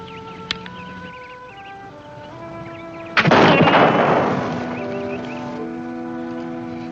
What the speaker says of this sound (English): That's fine shooting, Red Sky.